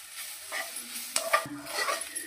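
Curry leaves go into a hot pan for a bachalakura pachadi, giving a short burst of sizzling with spatula scrapes and clinks against the pan.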